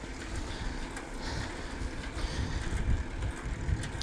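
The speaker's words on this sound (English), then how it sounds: "And man, that's a hell of a headwind." Strong headwind buffeting a microphone while cycling outdoors, a steady low rumble with gusty surges that swell louder toward the end, no voices.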